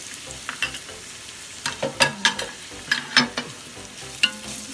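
Onion and carrot stir-fry in a pan for Arabian Bukhari rice: a low sizzle broken by several sharp spatula clacks and scrapes against the pan, with no voices.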